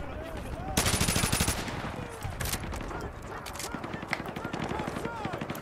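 Bursts of automatic gunfire and scattered single shots in Modern Warfare 2 Remastered, a loud rapid volley early on, then sporadic shots and battle noise continuing under the whole stretch.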